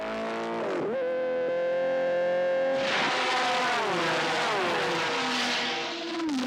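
Loud race car engines from Porsche 917s, Ferraris and Lolas rev and shift pitch, climbing and dropping through gears as they roar close by.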